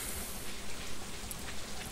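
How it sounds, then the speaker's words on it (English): Steady rain falls in the Stardew Valley farming game as an even, continuous hiss of drops with no breaks or other sounds. "And it's raining, so that's an easy day."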